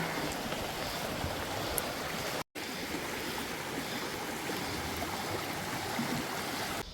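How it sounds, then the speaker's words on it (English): The Jenolan River runs through the Jenolan Gorge in the Blue Mountains with a steady, full rush of flowing water, loud and close, and no voices over it. "This is the Jenolan River."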